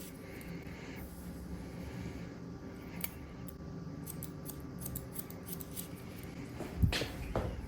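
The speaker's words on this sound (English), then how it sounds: "Just going to point cut this line in place." Scissors point cutting hair at the neckline during a 70s-style haircut, soft close snips scattered over a steady low room hum with no talking, a louder rustle near the end.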